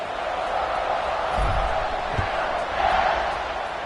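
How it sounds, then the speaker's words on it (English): A college football stadium crowd buzzes steadily before a kickoff, a dense, continuous roar of many voices at moderate distance, with a few louder swells and thumps breaking through. "this crowd is buzzing after that last score."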